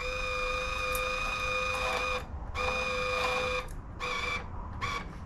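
A multi-process welder's wire feed motor gives a steady mechanical whine with strong sustained tones, droning continuously, briefly dropping out twice and resuming, close and fairly loud.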